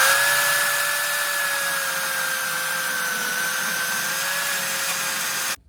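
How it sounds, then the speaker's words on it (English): A belt sander grinds steady and loud against the freshly cut end of a steel pipe for a turbo kit build, its continuous whine holding without a break until it stops abruptly at the end. "I'm gonna clean my cut up on my belt sander anyway"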